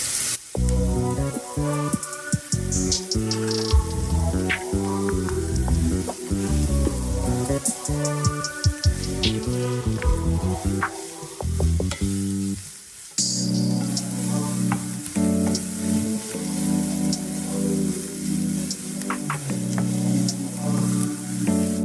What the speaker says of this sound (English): We're going to saute this for about 4 minutes, just until it's slightly getting tender.